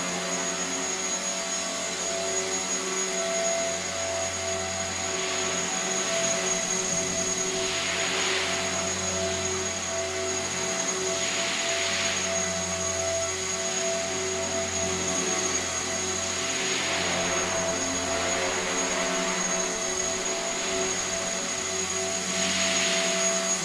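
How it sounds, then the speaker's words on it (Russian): Steady high-pitched whine of a radio-controlled model helicopter's small rotor engine droning continuously in flight, its pitch swelling and easing in slow waves over a constant background hum. "Вертолет будет в полете."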